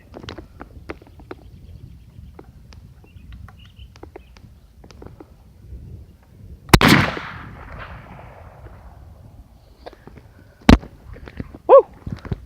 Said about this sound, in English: Don't you love shooting guns?